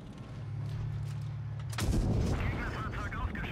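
A tank gun firing a HESH shell in World of Tanks Blitz: one sharp, heavy boom with a rumbling tail, cutting through a low engine hum.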